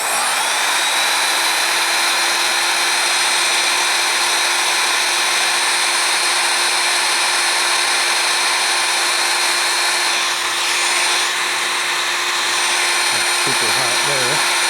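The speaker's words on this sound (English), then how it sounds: "I'm going to hit it with the heat shrink gun, see what it looks like" A heat shrink gun on medium heat blows hot air with a steady, loud whine and rushing hiss that holds throughout, close up, with a faint shift near the end during automotive wiring work on a 1977 Camaro Z28.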